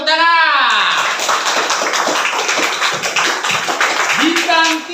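Classroom applause from a group of pupils clapping hands together, a dense patter of many claps lasting several seconds after a teacher's spoken praise, with another voice rising at the end.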